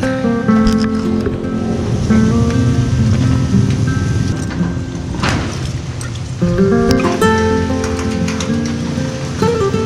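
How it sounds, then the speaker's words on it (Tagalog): Heavy rain pours steadily, a dense wash of water close by with a deep rumbling undertone and some faint tonal hums mixed in. "Lakas ng ulan"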